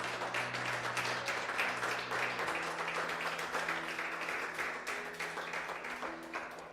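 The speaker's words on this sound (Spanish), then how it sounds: "Denle un aplauso al Señor." A church congregation applauds after a prayer, a steady wash of clapping over sustained organ or keyboard tones, filling the room for several seconds and easing slightly toward the end.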